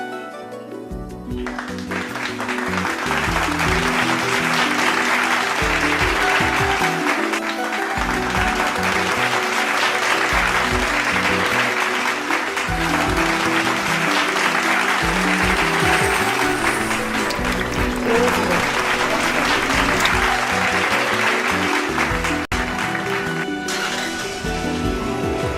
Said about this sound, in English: to clap for these frontline soldiers